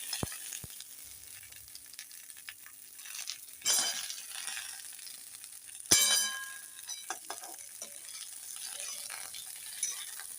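Eggplant pieces sautéing in oil in a pan for a brinjal gravy, with a steady soft sizzle broken by a few louder spatters and light clinks of a utensil against the pan.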